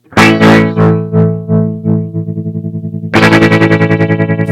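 An electric guitar runs through a Synthrotek 308 Eurorack distortion module, its fuzzy, saturated chord chopped by fast tremolo into rapid rhythmic pulses that quicken further as a brighter, denser chord takes over, loud and alone.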